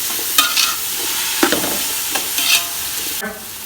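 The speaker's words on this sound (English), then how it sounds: "now add in the blanched carrots and French beans and mix this nicely" Blanched carrots, French beans and green peas are stirred in a hot pan for street-style chicken fried rice: a steady close sizzle broken by several sharp scraping stir strokes, with no voices.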